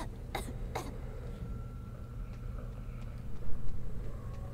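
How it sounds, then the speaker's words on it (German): Character coughing in the horror video game DreadOut 2, two sharp close coughs near the start over a steady low in-game background hum, followed by fainter scattered sounds. "Husten kann man manchmal echt schlecht unterdrücken"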